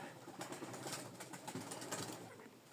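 Pigeons shifting and rustling in a wooden loft on a windy December day, with a steady breezy hiss and scattered soft flutters throughout, no clear cooing standing out.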